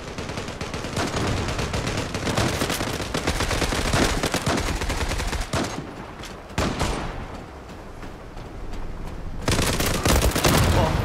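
Gunfire in the Turkish-made online shooter Zula, with dense continuous automatic bursts and rapid shots, loud and close throughout, briefly thinning before resuming.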